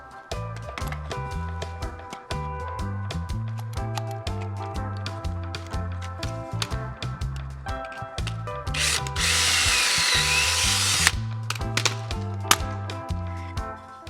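A power drill driving screws into wooden floor framing pieces inside a van, in repeated close, loud whirring bursts, with a short stretch of harsher sanding-like noise in the middle.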